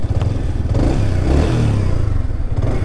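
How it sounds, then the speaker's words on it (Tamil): A Yamaha R15 M motorcycle engine rumbles loudly and close, its exhaust note rising and falling as the throttle is blipped. "இந்த பைக்கோட நம்ம எக்ஸாஸ்ட் நோட் கேட்கலாங்களா?"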